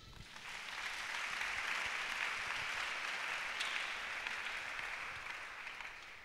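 A church congregation applauds steadily, a dense wash of clapping that swells in, holds for several seconds, then tapers off near the end.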